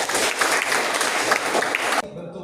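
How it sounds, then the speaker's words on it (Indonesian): A classroom of students applauds together in a dense, steady burst of clapping that stops abruptly, leaving a brief quieter tail with faint murmuring. "Iya, tepuk tangan untuk mereka dulu."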